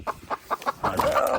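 Several chickens cluck in short, repeated bursts, then a longer drawn-out squawk, close by in a pigeon tower being emptied of about twenty hens.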